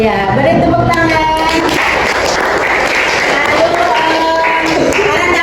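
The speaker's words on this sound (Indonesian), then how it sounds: "Iya, beri tepuk tangan." A classroom of pupils applauds at a teacher's prompt, a dense, steady burst of clapping mixed with children's voices throughout.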